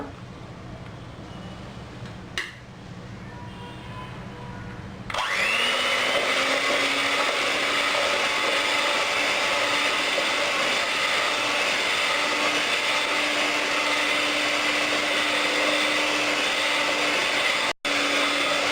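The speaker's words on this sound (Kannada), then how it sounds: "ಇವಾಗ ಬ್ಲೆಂಡರ್ ಸಹಾಯದಿಂದ ಇದನ್ನು ಮಿಕ್ಸ್ ಮಾಡ್ಕೊಳ್ಳೋಣ" Electric blender whirring through butter and sugar for a sponge cake batter, a steady loud motor drone after a brief quieter start, running continuously with a short dropout near the end and no talk.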